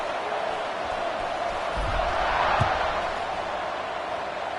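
Stadium crowd at a college football game, Vanderbilt playing, after a touchdown drive: a steady wash of distant roar and cheering that swells slightly in the middle, with a couple of low thumps.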